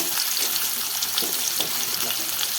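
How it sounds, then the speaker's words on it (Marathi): Chopped onion sautéing with cumin seeds in a hot kadhai, giving a steady, loud, close sizzle and hiss throughout with faint stirring underneath. "कांदा चांगला लालसर होईपर्यंत परतून घेते"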